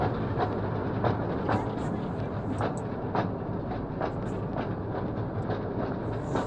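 Steady rumbling mine train ride on rails with regular clickety-clack beats, continuous and fairly loud, with faint voices in the background.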